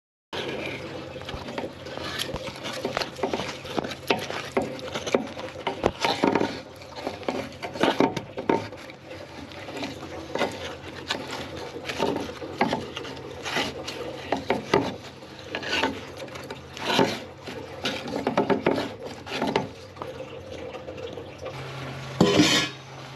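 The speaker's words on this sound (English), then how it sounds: "I'm just going to scrape the worst of it off with a screwdriver whilst I've got it off" Screwdriver scraping built-up deposits off a waterless urinal stack cap, repeated close rasping and scratching strokes in an irregular rhythm, with small metallic knocks and occasional faint talk.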